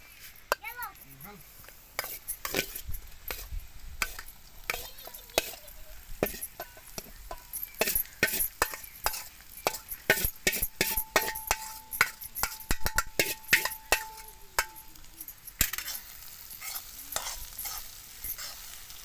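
Homemade mustard greens fry with onions in a pan, a quiet sizzle under repeated scraping and stirring strokes from a spoon, with occasional metallic clinks and a brief tone partway through.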